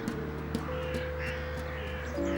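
Crows cawing in the Paris botanical garden, a few harsh calls close by over a low steady hum, with nobody talking.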